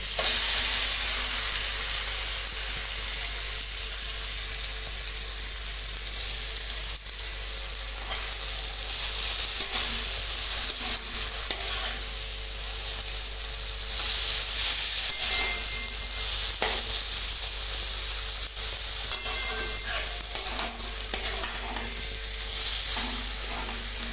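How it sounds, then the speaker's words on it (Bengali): Spinach paste with green chilli and lentils sizzles and fries steadily in a pan with onion and garlic, a continuous bright hiss with occasional stirring scrapes, close and alone. "এখন এতে আমি এই পালং শাক বাটাটা দিয়ে দিলাম।"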